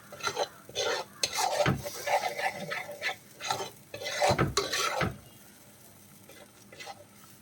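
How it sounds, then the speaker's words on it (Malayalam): Ground masala paste sautés in oil in a pan for a fish curry, with loud rhythmic scraping and clanks of a spoon stirring against metal. The stirring stops after about five seconds, leaving a soft, steady sizzle. "ഈ അരപ്പ് എണ്ണയിൽ കിടന്ന് ചെറുതായിട്ട് ഒന്ന് വഴണ്ട് വരണം കേട്ടോ. നമുക്കൊന്ന് വഴറ്റി കൊടുക്കാം."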